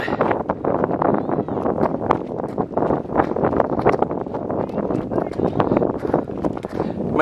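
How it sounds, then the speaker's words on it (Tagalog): Strong desert wind buffets the microphone continuously in the red sand dunes near Riyadh, a loud rumbling roar with gusty bursts throughout and no clear voices. "Medyo malakas lang yung hangin"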